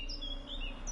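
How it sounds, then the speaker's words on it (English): Birds chirp and tweet in short, bright calls over a faint background hum in an outdoor scene of The Witcher 3 video game. "The birds singing, the bees buzzing."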